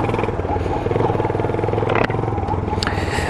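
A Vento Nitrox 250 city motorcycle being ridden, its engine drone steady and close throughout with a low rumble and a brief clatter midway.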